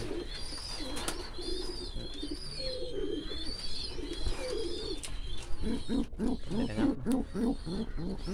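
Hungry ornamental pigeons call loudly at close range. Deep, rhythmic cooing swells into a rapid series of coos near the end, over a constant background of other birds.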